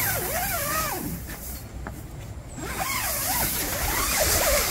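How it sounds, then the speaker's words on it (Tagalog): A tent's main door zipper is pulled open in quick rasping strokes, pausing briefly before a second run of zipping, close and crisp. "Yung isang zipper po is to open the main door."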